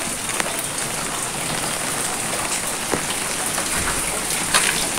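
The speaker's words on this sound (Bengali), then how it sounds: "গুড়ি গুড়ি বৃষ্টির সাথে বাতাস হচ্ছে" Light drizzle falls with wind on a rainy morning among guava and malta trees. A steady, even patter of rain hisses on the surfaces throughout, with no voices.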